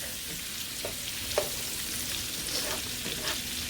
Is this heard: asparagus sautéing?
yes